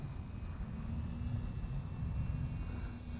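A Gofly Scorpion 80 micro whoop FPV drone hums under throttle with faint, steady high-pitched motor whine over a low rumbling background, fairly quiet and without talk.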